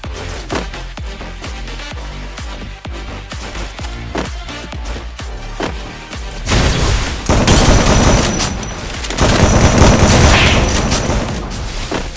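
Shotgun blasts and other gunfire in a battle royale video game, a rapid series of sharp booming shots that grows into a loud, dense barrage in the second half, with no talking.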